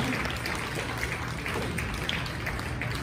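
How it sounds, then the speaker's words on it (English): A hall of fame ceremony audience applauds the new MC in a steady, roaring wash of many hands that blurs into continuous noise across the whole stretch. "I want you to give him a nice big round of applause, please."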